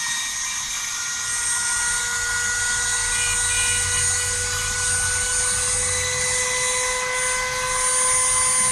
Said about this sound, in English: take a Dremel and give them a little bit of an edge